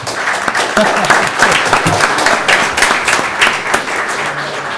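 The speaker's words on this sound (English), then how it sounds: "Kevin, you got an applause for the pledge." A town council meeting audience applauds after the Pledge of Allegiance, giving close, continuous, crackling clapping from many hands with no talk over it.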